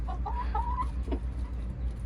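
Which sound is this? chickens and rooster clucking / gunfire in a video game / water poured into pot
chickens and rooster clucking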